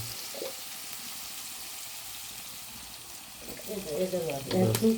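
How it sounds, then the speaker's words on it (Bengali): Spice masala frying in oil in a pan, a soft, steady sizzle that runs alone at first before voices start talking over it near the end. "মশলা পাক চলতেছে, এখন মশলা রেডি করার পরে আমরা মাংসটা ঢেলে দেবো।"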